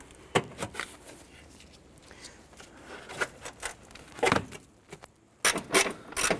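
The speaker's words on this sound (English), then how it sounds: "Remove the plastic retaining button here." A plastic retaining button is pried out of a 1993–1997 Ford Ranger header panel, a handful of scattered close clicks, snaps and scraping rattles at varying loudness with short pauses between.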